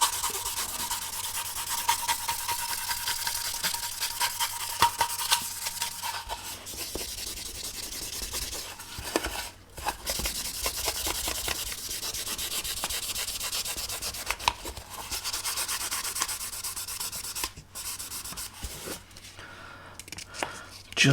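Fine 1500-grit sandpaper rubs steadily over the surface of a 22-inch Eagle 1 spaceship model, a close, continuous scratchy hiss with brief pauses and changes in stroke.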